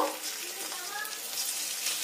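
Eggs fry in a pan with a soft, steady sizzling crackle, close and moderately quiet, unbroken across the short span.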